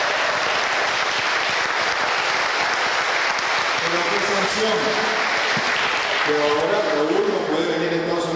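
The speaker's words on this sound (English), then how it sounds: "Let's give an applause to Raúl Castro." Audience applause for Raúl Castro at a gathering with Venezuela's foreign minister in New York, loud sustained clapping filling the room while a voice speaks over it toward the end.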